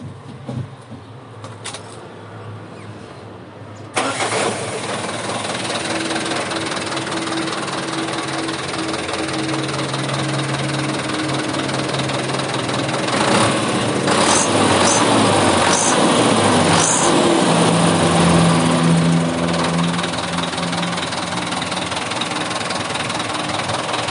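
Diesel engine of a 2013 Hino truck running loud and steady, with a gruff knocking rumble that rises in revs midway and holds for about twenty seconds with no one talking.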